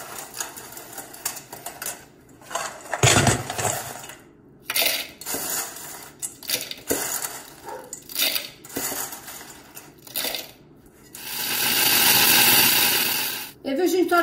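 Ingredients for a brigadeiro mousse tart being chopped in a kitchen, with sharp knife strikes on a board that come in irregular bursts and a long rushing stretch near the end.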